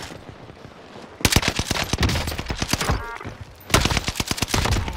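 Rapid bursts of Marco 5 SMG fire in the Warzone video game, loud close automatic rattles in two long strings separated by a brief pause.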